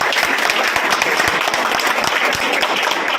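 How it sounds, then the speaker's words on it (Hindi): Loud, dense applause fills a party workers' meeting hall to welcome Digvijay Singh Chautala, steady clapping throughout with a few sharper claps standing out. "जोरदार तालियों से स्वागत किया जाए"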